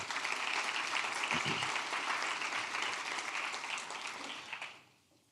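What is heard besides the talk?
audience applause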